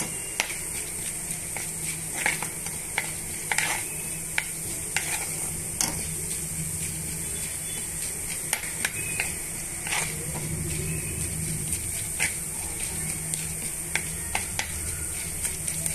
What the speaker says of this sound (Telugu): ఇలా మనం అన్నీ కూడా బాగా వేయించేస్తున్నాము.